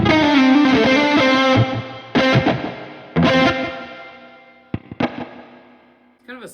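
Electric guitar run through a slight delay effect on a NUX MG-30 multi-effects unit, playing distorted chords in bursts with short decaying repeats and pauses between strums, alone and close.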